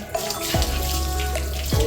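A child splashes bathwater all over a home balcony gallery. Close, continuous sloshing and running water, with a couple of sharper splashes and no talking.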